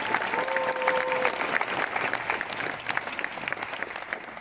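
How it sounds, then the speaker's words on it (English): An audience at a Budapest presentation applauds, a dense, continuous wash of many hands clapping in a hall, loud and sustained without pause. "So a great, great applause, please, for everyone who is here"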